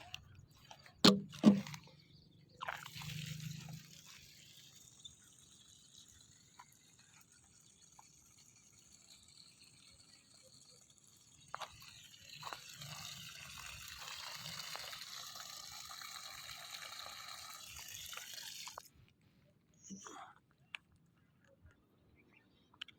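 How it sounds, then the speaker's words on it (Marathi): Water runs from a drip irrigation outlet beside mango and tamarind trees, a thin steady flow with gushing stretches and a few clicks and knocks, fairly faint and close, with no talk. "हा आपला स्पॉट आहे जिथून पाणी येतं"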